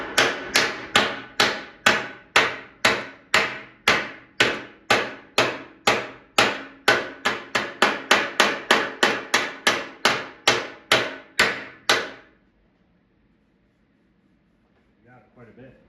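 Steady, rapid hammer blows hammering a dent out of a metal gas pump door, about two per second, loud and close, stopping abruptly and followed by near silence.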